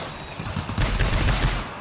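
Sentry gun firing in the co-op shooter game GTFO: a dense, rapid burst of gunfire with booming low end, continuous for under two seconds.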